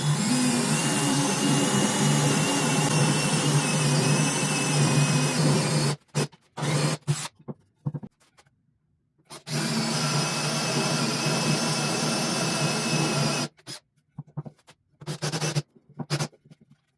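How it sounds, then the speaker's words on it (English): A power drill whines at high speed drilling holes through wood for a pipe, for several seconds, stops, then runs again in a second long burst, with short gaps and clicks between. "Drill a hole in the center of each piece for the pipe."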